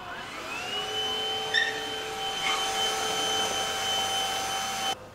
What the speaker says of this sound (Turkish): Bu şarj edebilir süpürgemiz.